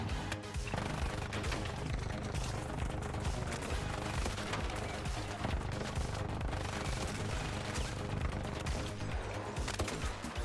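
Rapid, sustained gunfire in the Arc Raiders video game as a player shoots at an Arc machine's exposed joints, dense continuous bursts with heavy impacts layered under game music and effects.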